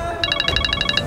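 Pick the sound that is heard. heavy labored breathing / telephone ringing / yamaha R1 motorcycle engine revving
telephone ringing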